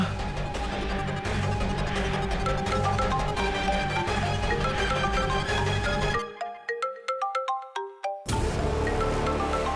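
A phone ringtone plays loudly and close, a bright repeating melodic tune that runs on, then goes briefly sparse with separate chiming notes before the full ringing resumes.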